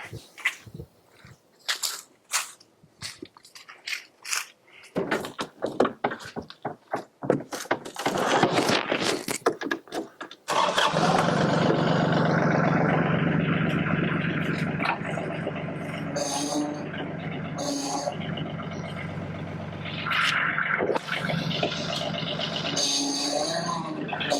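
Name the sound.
Yanmar T235 tractor engine starting and idling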